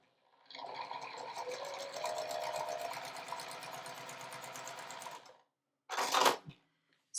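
Sewing machine stitching a quilt's half square triangles, a steady rapid mechanical whir running for about five seconds before stopping, followed by a brief separate burst of noise.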